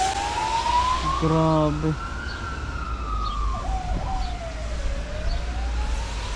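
A police car siren wails past on a New Zealand street, rising and falling as it moves by over steady traffic rumble, with someone speaking briefly over it.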